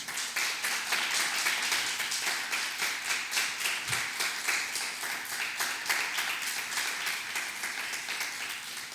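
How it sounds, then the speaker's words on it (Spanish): A church congregation applauds after a sermon reading, a steady, fairly close wash of many hands clapping with a loose rhythmic pulse running through it, continuing without letup. "Dele un fuerte aplauso a Dios por esta palabra."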